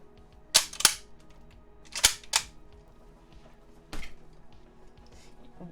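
Sharp gunshots from a World War II rifle in a video game, two close cracks near the start, another pair a second later, then a fainter single shot, each standing alone over quiet game ambience.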